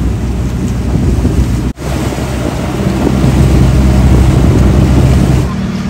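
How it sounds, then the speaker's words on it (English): Steady rain hisses and patters while passengers board a bangka outrigger boat at a pier near Lakawon Island in the Philippines, a loud, continuous wash of noise with one brief dropout partway through. "It's raining right now, but hopefully it'll clear up."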